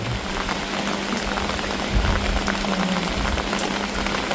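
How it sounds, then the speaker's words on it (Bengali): Heavy rain pours steadily at a Sundarbans jungle resort in Bangladesh, a dense close wash of drops drumming on surfaces with a low hum running underneath, alone with no talk. "ভালোই কিন্তু জোরে বৃষ্টি হচ্ছে"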